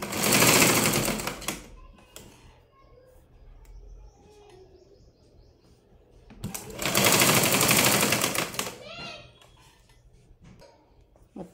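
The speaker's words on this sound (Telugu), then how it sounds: "టెన్షన్ అనేది తీసి పైకి వేసుకుంటూ కుట్టుకోవాలి." Sewing machine stitching a blouse, running in two loud bursts about five seconds apart, each lasting a second or two, with quiet handling noises and faint bird chirps in between.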